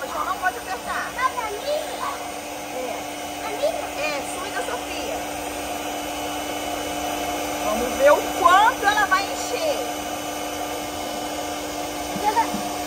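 A blower steadily hums as it inflates a giant balloon, a constant drone running throughout while children and adults chatter and call out over it.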